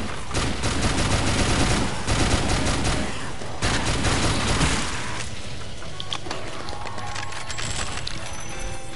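Heavy rapid machine gun fire in the game Let It Die, loud dense bursts of shots rattling on for several seconds before easing into quieter mechanical clatter.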